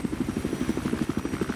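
Helicopter in the video game Battlefield 4, a steady rhythmic rotor thump with a low buzzing drone, close and fairly loud throughout the short stretch.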